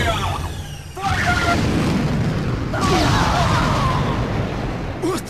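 Ship cannons firing in Asura's Wrath, heavy booming blasts and explosions with whooshing bursts, loud and dense, layered under game voices and a swelling score.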